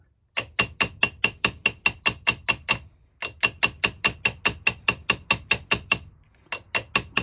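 A small toffee hammer taps sharply and evenly in quick runs of about a dozen strikes each, three bursts separated by short pauses, close and crisp with no talking.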